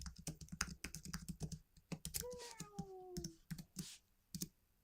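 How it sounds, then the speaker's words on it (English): Rapid keyboard typing, close and clicky, with a cat meowing briefly in the middle. "let's quiet my keyboard so it's not so loud"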